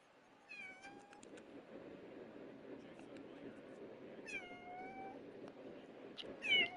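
A cat meows several times, clear rising and falling calls spaced a few seconds apart over a low background murmur, while a person talks during a football video game.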